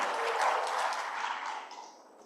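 Summit audience applauding, a dense burst of clapping that swells early and then fades away over about two seconds.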